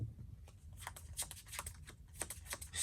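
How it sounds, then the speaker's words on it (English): Quiet, quick crisp flicks and slides of shuffled sleeved Yu-Gi-Oh trading cards, a rapid irregular patter of sharp little snaps close by. "So, I'm going to shuffle these around real quick."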